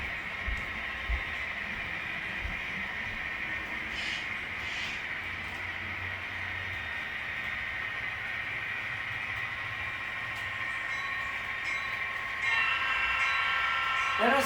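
HO scale model train running on a layout, a faint steady whirring hum with light clicks and rumbles from the track, a quiet continuous drone throughout.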